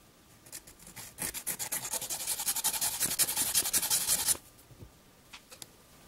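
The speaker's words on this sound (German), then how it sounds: "Es gibt nichts, was man nicht mit einer kleinen Feile lösen kann" Rapid back-and-forth rasping of a small hand file on metal, a steady run of close, bright strokes lasting several seconds before stopping, followed by a few faint scrapes.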